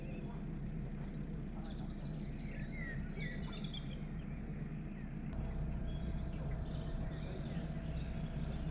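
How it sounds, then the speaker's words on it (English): Birds chirp faintly and intermittently along a canal at dusk, their calls scattered over a low, constant background hum. "all we could hear was the bird song on the canal"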